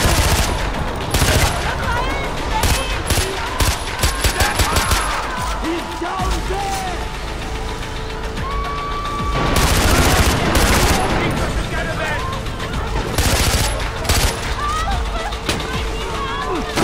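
Heavy gunfire in the Far Cry 4 video game, dense overlapping volleys and rapid bursts running almost continuously at high volume, with shouted voices and crashes mixed among the shots.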